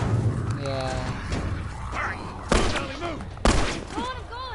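Gunfire in The Last of Us, two sharp loud shots spaced about a second apart over a noisy ambient background, with faint game sounds and chirps around them.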